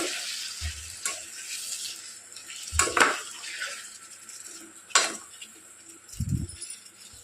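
Tomatoes with salt stirred in a cooking pot, with several sharp clanks of a spoon against the metal spaced a second or two apart and soft scraping in between, close and moderately loud.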